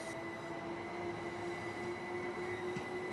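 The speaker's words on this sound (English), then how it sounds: "Let's take a look at our train as it departs Eastbourne Station." A simulated Class 377/4 electric multiple unit pulls out of Eastbourne station in a train simulator game, giving a faint, steady electric motor whine and rolling rumble with a sustained tonal hum throughout.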